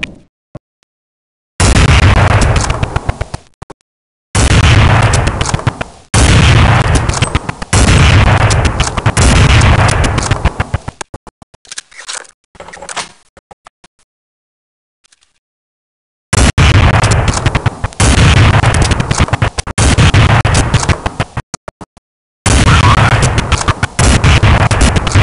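Grenade explosions and gunfire in Counter-Strike 1.6 on the aim_2fort map: loud, dense bursts of blasts and shots come in long clusters, separated by sudden stretches of silence.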